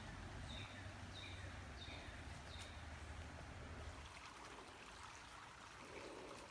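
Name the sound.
creek water flowing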